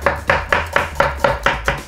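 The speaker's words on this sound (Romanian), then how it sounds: "Până toc eu repede legumele" A knife chops an onion into julienne strips on a cutting board at a quick, even pace, with eight crisp close strikes spaced roughly a quarter second apart.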